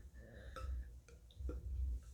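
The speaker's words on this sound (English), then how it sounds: "Wait, can I burp without breathing in?" A person burps with no deep breath beforehand, giving low, rough gulping eructations, two or three short bursts in close succession, near the mic and fairly quiet, with no speech.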